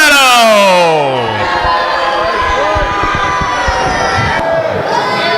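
Wrestling arena crowd at an NWA event roaring and cheering loudly and steadily, with a shrill rising call at the start and voices shouting throughout the dense, close din.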